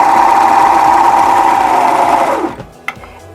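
Serger sewing machine restitching a seam, running in a fast, steady, loud mechanical whir that slows and stops after a few seconds, followed by a faint click in near-quiet.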